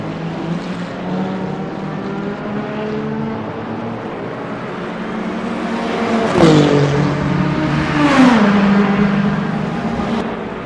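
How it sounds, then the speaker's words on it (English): Lamborghini race car in Le Mans Ultimate: a steady, loud engine drone with rich harmonics, briefly dropping and rising twice as it shifts and revs through corners, with no voices. "That Lamborghini sounds really good."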